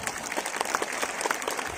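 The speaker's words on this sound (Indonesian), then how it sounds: "Tepuk tangan tuh Pak Lurah." Applause from an audience at a speech gathering with a village head present, a dense, steady patter of many clapping hands heard close and alone.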